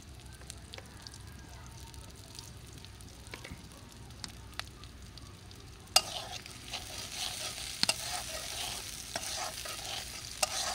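Bitter gourd and onion frying in a hot pan, with a steady soft sizzle and intermittent scraping clicks of stirring, the frying growing louder and brighter about halfway through.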